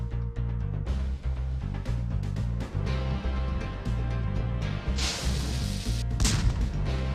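Booming cannon shots from the Spyro video game fire in repeated heavy bursts over a steady game music backdrop, with a louder crashing blast near the end.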